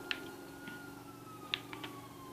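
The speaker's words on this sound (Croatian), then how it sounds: "Sirena." An emergency siren in the video game GTA 5, a faint steady wailing tone running under a low hum, broken by a few soft clicks.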